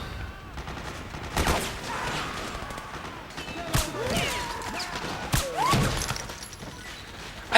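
Gunfire in Metal Gear Solid 4 as Snake shoots PMC soldiers, a few sharp separated shots and impacts over a murmur of game ambience, fairly distant and moderate in level.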